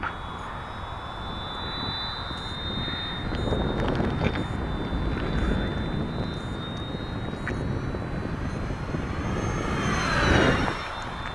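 An Eleven Hobby F8F RC model airplane spools up from quarter throttle with flaps down, its electric motor whine rising steadily under wind buffeting, then swelling as the plane sweeps close by.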